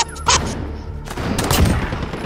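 Rapid gunfire from a marksman rifle and other weapons in a Modern Warfare custom match, a dense burst of loud shots and booms without talk.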